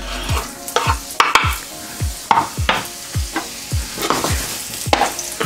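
Half an onion sizzling in a generous splash of oil in a pan, with about a dozen rhythmic spatula strokes scraping and stirring close by over a steady frying hiss, no voices.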